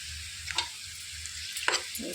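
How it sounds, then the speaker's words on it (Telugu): Dried red chillies fry in oil for a pachakura curry, giving a faint, steady low sizzle with a couple of brief scraping stirs and clinks near the middle and end. "ఇందులోనికి ఎండుమిర్చిని కూడా వేసేసుకోవాలి."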